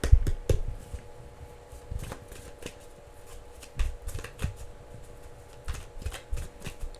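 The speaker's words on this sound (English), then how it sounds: "Let me shuffle some more and clear this deck." A deck of tarot cards being shuffled by hand, with repeated soft riffling and slapping bursts at an irregular pace. The sound is close and fairly quiet, and no one speaks.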